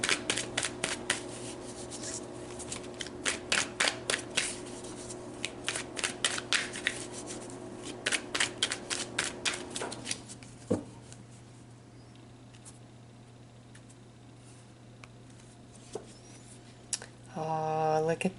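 Tarot cards shuffled and pulled, a run of quick crisp riffling bursts for several seconds, then quieter sliding and flicking, with a brief spoken voice near the end.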